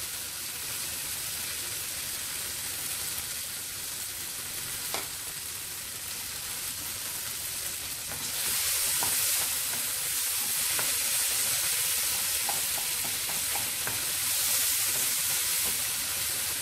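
Tomatoes fry and are stirred with turmeric powder in a pan for tomato rice, giving a steady broadband sizzle that grows louder and denser partway through, with a few faint utensil clicks and no talking.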